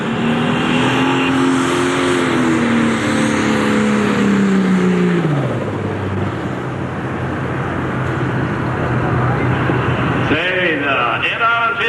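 A loud pulling-tractor engine revs hard and continuously at a 10,000-pound Pro Stock tractor pull, 1992 Ohio State Fair, its pitch climbing and then dropping away, with a brief voice near the end; the tractor is running badly.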